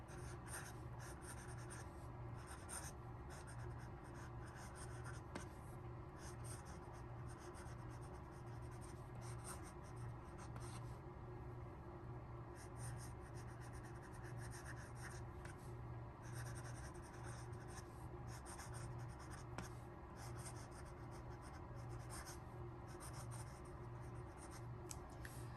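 A fountain pen with a broad yellow steel nib writing on paper, a continuous close, quiet scratching and rubbing with steady stroke rhythm throughout.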